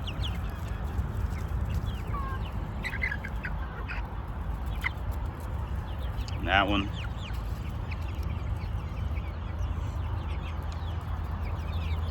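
Chickens of mixed breeds, including a crested top-knot bird and fluffy-faced ones, cluck and chatter in a flock, with a short louder squawk midway over steady background noise while a person speaks briefly.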